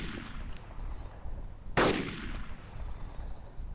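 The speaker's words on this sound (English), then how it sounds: "And now I'm shooting him" Single sharp gunshot in the DayZ mod, a quick crack standing out over a steady bed of ambient game noise, fairly distant and brief.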